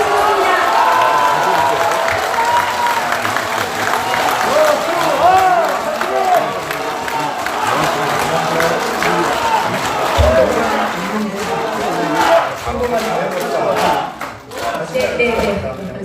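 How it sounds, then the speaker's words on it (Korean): Crowd applause and cheering at an outdoor press conference demanding an investigation into 4.15 general election vote-count fraud, a loud sustained mass of clapping and shouts over many seconds, with voices calling out throughout. "큰 박수 부탁드립니다."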